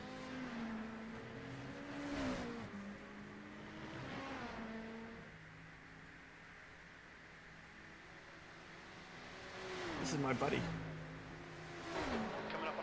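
Race car engines in iRacing at the 24 Hours of Le Mans, a steady engine drone with several rising and falling revs and gear shifts, quiet under near-constant conversation between drivers.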